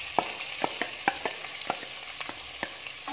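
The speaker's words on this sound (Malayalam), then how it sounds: "ഞാൻ 2 മീഡിയം സൈസുള്ള സവാള നീളത്തിൽ അരിഞ്ഞതാണിത്," Two medium onions, sliced lengthwise, sizzle and fry in a hot pan for karimeen mappas, a steady crackle with soft stirring clicks repeating every half second or so, close and fairly loud, with no talking.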